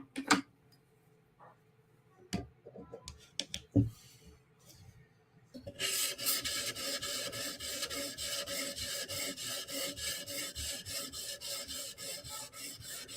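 Bestech Tanto knife blade worked across a 400 grit stone: a few scattered clicks and taps, then a steady rhythmic rasping of repeated strokes, close and continuous to the end.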